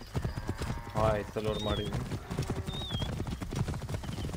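Horse hooves clip-clop steadily at a gallop in Assassin's Creed Origins, with a horse whinnying partway through; someone speaks over the rhythmic hoofbeats throughout.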